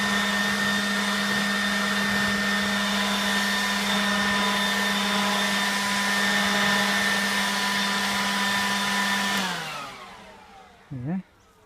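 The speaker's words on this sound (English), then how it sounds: "We've just got a little garden blower here." A small garden blower clears cellulose insulation from eave vents, its loud, steady whine holding for about nine seconds before winding down, followed by a brief burst of noise.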